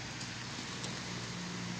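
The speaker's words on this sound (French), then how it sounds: "Putain, il pleut." Steady rain pours down at a bus stop in Tours, a dense, even hiss of drops hitting the ground with a low hum underneath, constant and close for the whole stretch.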